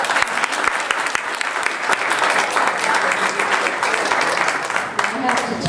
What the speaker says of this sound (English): Yes, I'll wait if you want to applaud for Dr. Sarge.